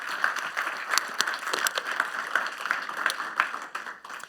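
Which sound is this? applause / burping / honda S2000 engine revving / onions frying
applause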